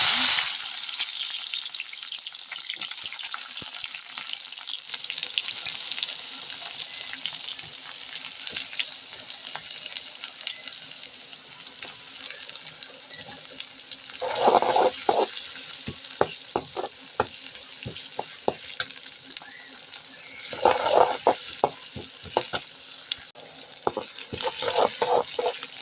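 Chopped onions frying in hot oil for an eggplant stir-fry, a steady close sizzle with occasional bursts of louder crackling and stirring as the pan is worked.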